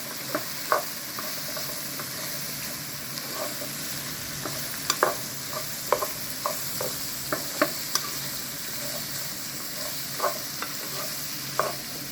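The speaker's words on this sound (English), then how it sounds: "Gonna add our carrots, red pepper and green pepper. It's all chopped and ready to go in. We mix them up." Chopped carrots and red and green peppers are stirred in a pan, with soft, irregular clicks and scrapes of the utensil over a faint, steady sizzle.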